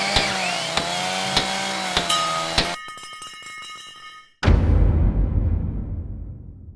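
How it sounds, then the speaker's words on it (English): A jigsaw cutting wood sounds in bursts broken by sharp clicks, then drops to a thin metallic buzz, before a loud, rough rasping cut returns and slowly tapers off. "We're going to go over some tips and some tricks to help you get the best cut possible with your jigsaw."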